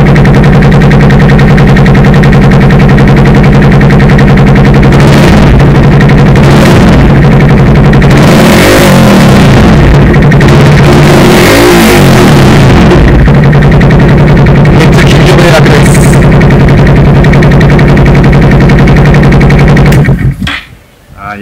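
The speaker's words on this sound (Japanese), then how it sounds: "それではエンジンかけます。" A Honda Monkey 125 fitted with an Akrapovič muffler idles and revs loudly up close, its exhaust rising and falling in repeated throttle blips before cutting off abruptly at the end.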